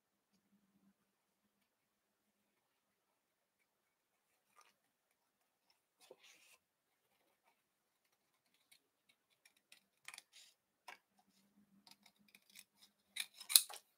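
Scissors fussy-cutting around stamped paper images in a card-making session, with sparse, faint snips that grow into quicker clusters of crisp cuts toward the end, and no talk.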